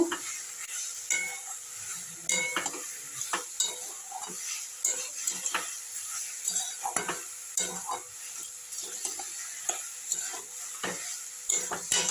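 A vegetable chop mixture is stirred in a frying pan with scattered scrapes and light clinks of the utensil against the pan over a soft, continuous sizzle.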